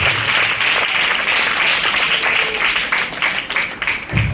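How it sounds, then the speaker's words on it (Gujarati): Sustained applause from a school crowd honouring scholarship students, a dense steady wash of clapping that thins slightly toward the end. "તાળીઓના નાદ સાથે આપણે એને વધારીએ"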